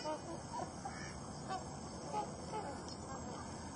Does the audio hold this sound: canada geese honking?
yes